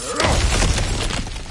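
A character smashes through cracked ground in God of War, a loud crunching shatter with a heavy thud at the start and scattered debris breaking apart and settling afterward.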